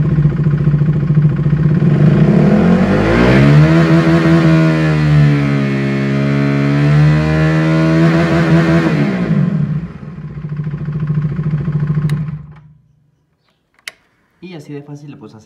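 A KTM RC390 motorcycle's single-cylinder engine is revved steadily up toward 9000 rpm, its pitch climbing, holding high, then dropping back before the engine shuts off, followed by a brief spoken remark.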